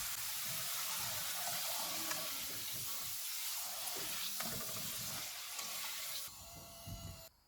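Potato chips sizzle and hiss steadily in hot frying oil, a dense bubbling crackle that fades slightly toward the end.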